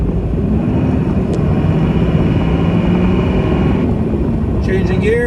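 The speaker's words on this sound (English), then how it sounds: "All right, put her in first gear. Just gonna take her down the road here a bit." A 1999 Dodge Ram 3500 diesel truck pulls away in first gear, its engine a loud, steady low rumble close by, with a faint whine rising near the end.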